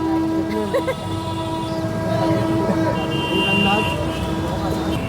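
Car horns honk repeatedly over a constant roar of busy street traffic in India, with distant voices mixed in.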